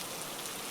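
Soft, steady rain pattering on a surface, an even continuous hiss of fine drops heard alone and quietly throughout.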